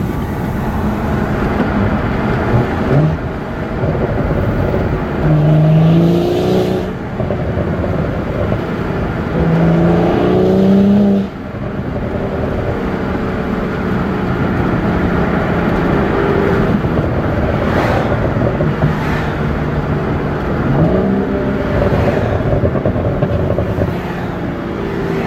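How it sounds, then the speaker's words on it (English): BMW 135i with an MHD tune rumbles steadily while driving, its exhaust giving mild, long-lasting burbles and pops that rise repeatedly over continuous road and engine noise, close and loud with no talking. "you'll be able to hear the burbles and hear how it sounds now"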